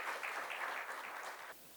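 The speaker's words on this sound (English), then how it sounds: "please give him a good round of applause" Audience applause at a finance forum on food and beverage investment, a short burst of clapping that holds fairly even and then cuts off, quiet and slightly distant.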